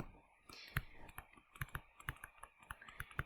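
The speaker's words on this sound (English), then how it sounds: "just write out what I would type in." Keys clatter on a computer keyboard as an equation is typed into a solver, a quiet run of irregular clicks and taps at close range with no talking over them.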